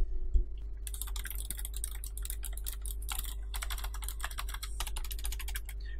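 Rapid typing on a Razer Ornata Chroma keyboard, a steady stream of close, crisp key clicks with short pauses, over a faint low electrical hum and no talking.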